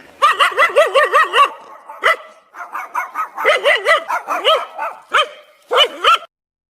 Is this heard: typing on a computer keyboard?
no